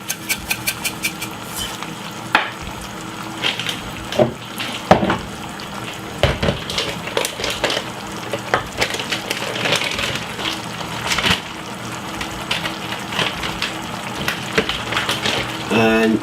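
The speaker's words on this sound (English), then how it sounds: "give it a good stir" Herbs and pepper stirred into a tomato sauce for shakshuka, giving steady close scraping and clinking of a spoon against the pan with light sizzling throughout and occasional louder knocks.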